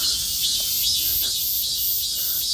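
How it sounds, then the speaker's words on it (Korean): A cicada drones outdoors in Korea, a loud continuous high buzzing trill that fills the whole stretch without pause, with faint background noise below and no talking. "매미가"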